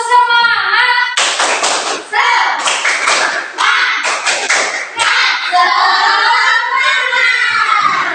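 A school class performs a rhythmic spirit clap, tepuk semangat, with sharp, patterned bursts of group clapping between loud chanted voices of children, all close and lively.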